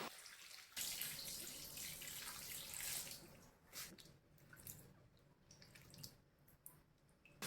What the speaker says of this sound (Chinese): 黄皮连同水倒入盆中，多清洗几遍，清洗干净。